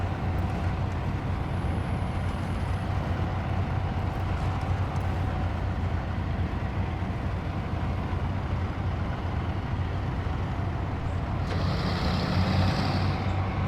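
A heavy truck engine in the off-road driving game Snowrunner rumbles steadily as the vehicle drives. The drone is deep, continuous and fairly loud throughout, and a slight rise in pitch comes near the end, with no voices.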